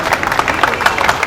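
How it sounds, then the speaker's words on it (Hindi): An audience at a poetry recital during a showroom opening claps together, a dense, close, loud burst of applause that lasts just over a second. "मैं ताली मारना चाहता हूँ"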